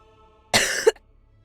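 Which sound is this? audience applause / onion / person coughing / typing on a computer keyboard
person coughing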